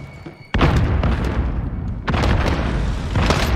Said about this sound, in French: Je balance une grenade paralysante.